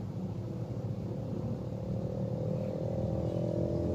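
Street traffic with cars and motorcycles rumbles along a congested road, a low continuous engine drone with a faint passing engine whine, steady and moderately close with no talking.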